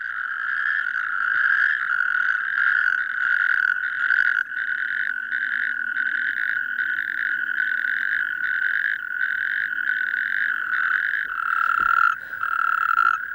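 A dense night chorus of calling male natterjack toads, a continuous loud trilling drone with rapid pulsed rhythm, many voices overlapping close by, no speech.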